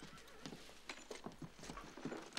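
Horse hooves clip-clop steadily outside in an 1880s frontier town street, a brisk rhythmic series of hard knocks at moderate distance, with a faint whinny among them and no talk.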